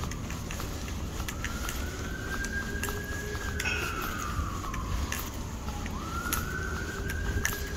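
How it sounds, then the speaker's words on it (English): A siren wails in the distance, its tone slowly rising and falling in long sweeps over steady street noise. "Here comes the sirens now."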